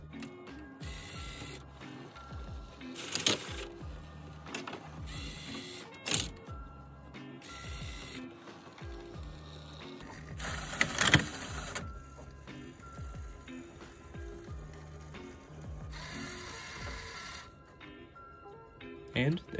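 A LEGO EV3 motor drives a LEGO bowling alley mechanism that moves pins into place, giving intermittent mechanical whirring and clicking bursts that start and stop across the stretch, with soft background noise and no voices.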